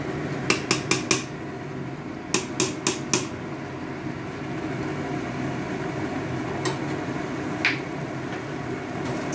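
Metal utensils clank sharply against a cooking pot while mutton is stirred at an outdoor winter picnic, in two quick bursts of four strikes plus a few isolated clinks over a constant background hiss.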